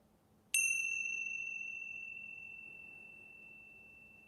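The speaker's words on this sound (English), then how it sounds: "Here comes the bell." A single meditation bell struck once, ringing out clear and bright with a long, slowly fading sustain that stays alone in near silence.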